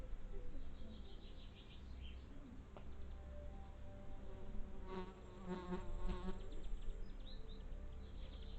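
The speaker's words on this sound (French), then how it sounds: "une mouche qui tourne autour de la caméra" A housefly buzzes close around the camera in a garden, its whine rising and fading as it circles over steady outdoor background noise, with faint bird calls in the distance.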